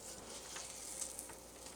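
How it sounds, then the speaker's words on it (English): Chili lime shrimp sizzle in a hot pan, a faint, steady frying hiss with tiny crackles, brief and heard alone. "Ooh, you can hear them sizzle."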